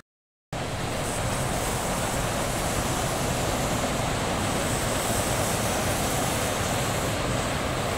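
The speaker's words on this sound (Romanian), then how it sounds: "Aici e un râu." Steady rushing water, a dense continuous wash of noise from a river flowing nearby near Baile Herculane, Romania, loud and unbroken after a brief silent start.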